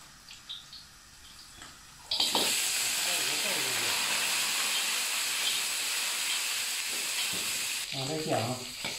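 Loud, steady sizzling of ginger frying in hot oil in a pan while spare ribs are cooked, a bright hiss that starts suddenly and runs continuously, with brief voices at the start and end.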